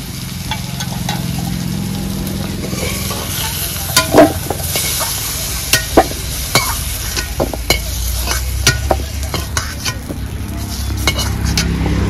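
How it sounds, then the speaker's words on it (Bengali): Ground spices and a tempering of cumin and bay leaf sizzle in hot oil in a pan after fried potatoes for a shol fish curry, a steady frying hiss broken by frequent sharp clinks and scrapes of a spatula stirring. "আলুগুলো নামিয়ে মশলাগুলো একে একে কষে নেব।"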